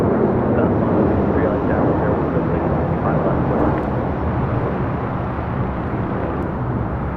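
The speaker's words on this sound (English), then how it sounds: "1398 taking off to Mazatlan, Sinaloa, Mexico on a 737-900" An Alaska Airlines Boeing 737-900 takes off from LAX with a loud, dense roar of jet engines that holds strong and then eases slightly as the plane climbs away.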